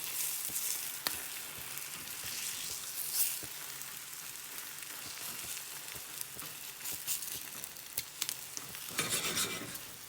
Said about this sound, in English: solitary large egg to the pan. And mix it around.